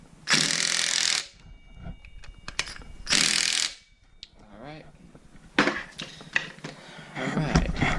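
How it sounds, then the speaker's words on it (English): A ratchet snugs down 10mm bolts on a Mazda RX8 rotary engine during a rebuild, with two long, loud bursts of rapid clicking and then shorter ratcheting spurts, plus metallic clinks and a brief voice in between. "Alright, it is a 10mm. Let's go ahead and snug these up. Alright, now tighten them."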